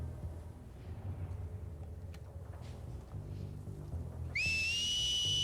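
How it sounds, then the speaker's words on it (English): Enemy alert whistles in The Last of Us Part 2 ring out near the end, one loud, sharp rising whistle tone held steady, over low rumbling game ambience. "Alert whistles."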